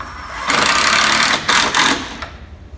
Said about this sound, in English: So I'm just putting all these screws in.